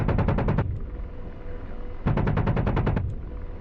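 An Apache attack helicopter's cannon fires in a flight combat game, two loud rapid bursts of evenly spaced rounds separated by a short pause with a lingering rumble between them.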